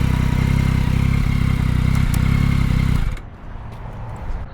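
Yamaha Tracer 9 GT motorcycle engine revving hard and loud with a dense low growl for about three seconds, then cutting off sharply to a quieter background.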